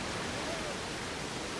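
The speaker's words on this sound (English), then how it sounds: "That's a waterfall effect, right?" A waterfall effect in the video game Planet Coaster 2 gives a steady, even rush of falling water, fairly soft and unbroken throughout, with a faint voice underneath.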